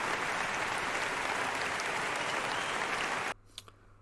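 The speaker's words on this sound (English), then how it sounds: "Thank you so much for the applause." Steady, dense applause from a crowd fills most of the clip, then cuts off abruptly near the end, leaving a quiet room with a few faint sounds.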